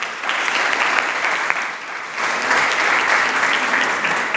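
Loud, close audience applause at a Sunday church service fills the room, dipping slightly midway before swelling again into vigorous clapping.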